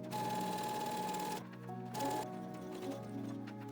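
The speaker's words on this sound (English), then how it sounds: "Starting from the top of the dart, sew a straight stitch all the way down and past the end of your dart." Sewing machine running a straight stitch down a dart on a 90s-style mini skirt, a fast rhythmic whir that stops after about a second and a half, then short bursts and pauses, close up with no talk.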